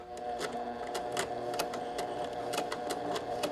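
A sewing machine locks stitches at the start of a seam with a short stitch length, running forward and back in a close, steady mechanical hum with rapid rhythmic ticking of the needle.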